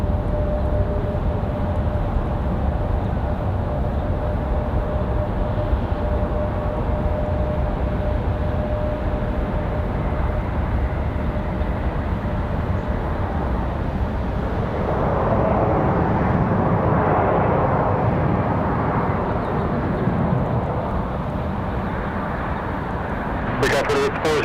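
A Republic Airways American Eagle regional airliner at Raleigh-Durham International Airport gives off a steady, broad jet roar that swells slightly toward the end, heard from a distance with voices present throughout.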